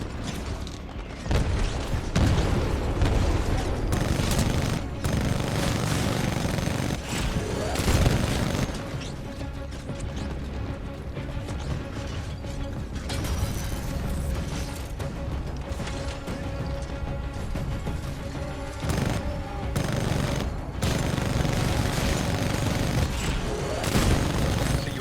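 Heavy Titan weapons in Titanfall 2 pound away with booming blasts, rattling bursts and explosive impacts layered into a dense, relentless barrage, with mechanical clanks throughout and occasional voices under the din.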